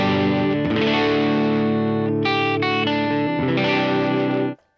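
An electric guitar played on its neck pickup through a pedalboard rings out in sustained, distorted chords with a chorus-like shimmer, changing a few times before cutting off abruptly near the end.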